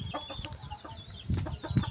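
Chicks cheep close by in thin, high chirps, overlapping in a busy, continuous chatter with some soft clucking underneath.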